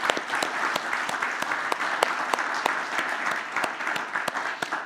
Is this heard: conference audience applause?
yes